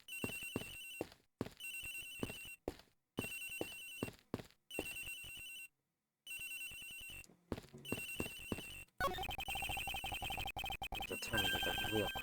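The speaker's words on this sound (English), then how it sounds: "Sounds like the phone is up in the flight attendant's room." Cell phone ringtone in the Ace Attorney Investigations video game: a repeating melodic electronic ring in short bursts separated by brief silences, then a denser, louder stretch of game music and ringing toward the end, with no talking.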